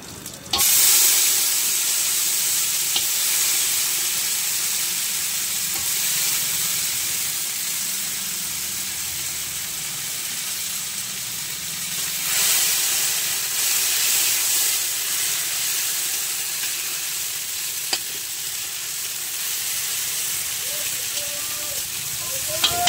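Whole cumin, bay leaf, dried chili and ginger paste sizzling in hot oil, a continuous frying hiss with stirring noises that swells briefly midway and carries on steadily to the end.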